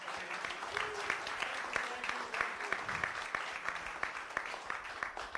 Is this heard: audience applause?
yes